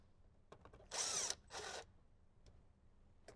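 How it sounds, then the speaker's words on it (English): A cordless screw gun fitted with a socket extension spins out 7mm bolts during a Jeep Wrangler JK speaker install, two loud whirring bursts close by, with faint clicks before and after. "We can grab our screw gun with a socket extension, or you can use a regular socket wrench, and we can start removing some of those 7mm bolts"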